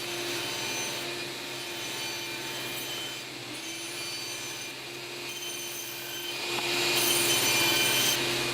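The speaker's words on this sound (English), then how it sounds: "So let's start cutting." Fence picket wood for a rustic farmhouse-style lantern is cut with a saw, giving a steady, close rasping and whirring that runs continuously and swells louder near the end.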